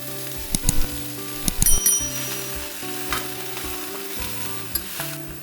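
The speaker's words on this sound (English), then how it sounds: "I'm gonna add in our next ingredients, which is the broccoli and the cauliflower" Cabbage, broccoli and cauliflower sizzle as they are stir-fried in a hot pan, a steady frying hiss broken by a few sharp metallic clinks of the utensil against the pan.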